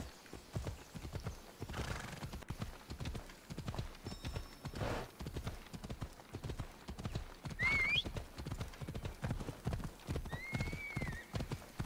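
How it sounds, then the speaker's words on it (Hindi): Hooves pound in a steady galloping rhythm as a horse runs in Assassin's Creed Odyssey, with a couple of high whinnies breaking through over the continuous clatter. "घोड़ा"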